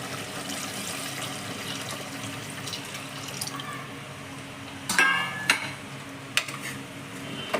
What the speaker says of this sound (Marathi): आता यात आपण गरम पाणी ॲड करूयात